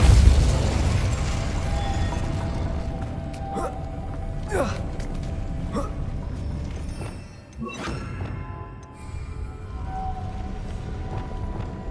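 Spell blasts and explosions in Hogwarts Legacy: a run of booming bursts and crackling impacts, loud and close, with a continuous rumbling bed and a voice casting spells over them.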